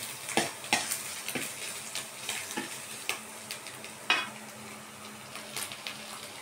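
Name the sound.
shrimp and garlic sautéing in a pan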